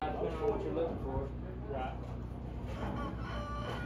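A hen clucking at a small-animal auction barn, faint and intermittent beneath a steady murmur of people talking nearby.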